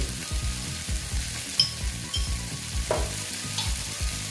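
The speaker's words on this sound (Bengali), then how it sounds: "এখন আমি এখানে অল্প দিয়ে দিচ্ছি তেল," A little oil sizzling in a hot pan for an egg and okra dish, a continuous close fry with regular scraping and stirring strokes and occasional sharp clicks.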